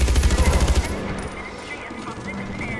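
Rapid automatic gunfire from a weapon in the video game Far Cry rattles loudly in a quick burst for under a second, followed by quieter game ambience with faint background sounds.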